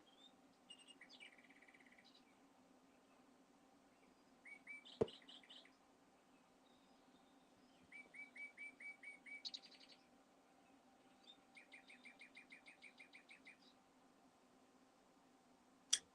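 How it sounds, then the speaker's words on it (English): A small bird chirps in short bursts of quick repeated notes, heard indoors in a quiet sewing room over a faint hum, with one sharp click partway through. "There's my chirpy bird."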